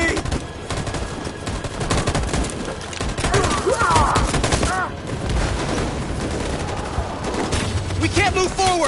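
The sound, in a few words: machine gun fire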